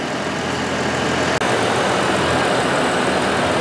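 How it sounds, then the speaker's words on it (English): A car engine idles steadily with the air-conditioning system running, a loud, even broadband drone close by that holds constant apart from one brief dropout, with no speech. "so the engine's still running."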